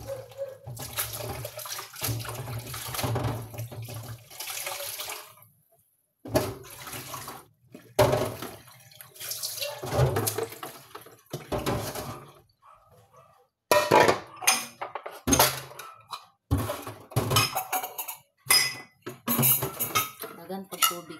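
Dishes and pots being washed under running tap water in a home kitchen, with clinking cutlery and splashing in bursts separated by pauses, and people talking intermittently in the background.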